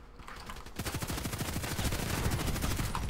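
Gunfire in the shooter game Contract Wars, with rapid automatic bursts that rattle on in quick succession for most of the stretch, loud and unbroken by talk.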